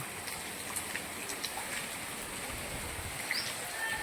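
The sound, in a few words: monsoon rain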